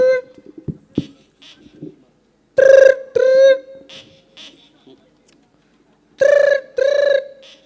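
A telephone ringing indoors, two pairs of loud bright trilling rings separated by a pause, with scattered voices and small noises in between.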